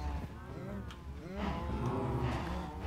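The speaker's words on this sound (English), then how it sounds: "Goodness me, there's a lot of cows." Several Minecraft cows low in overlapping, drawn-out moos, soft and fairly close, one call following another across a few seconds.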